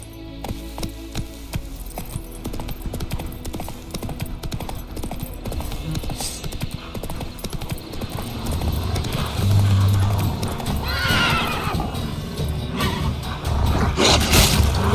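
Roach, a horse in The Witcher 3, gallops with steady hoofbeats amid a loud, busy game soundscape, with a short neigh-like burst near the end.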